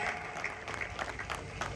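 Audience applause rings out steadily for the whole moment, dense and even, with a faint crowd murmur mixed in and no voice on top.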